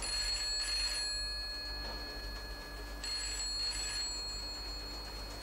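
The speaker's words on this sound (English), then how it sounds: "That's the telephone ringing, sir." A telephone rings in repeated electronic trilling bursts, two clear rings separated by a pause, fairly close with no talking.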